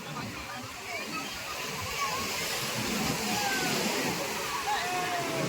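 Sea waves at Puri beach with crowds of bathers during the Rath Yatra festival, a continuous broad wash of surf that grows slightly louder partway through, heard at moderate distance with no clear voices.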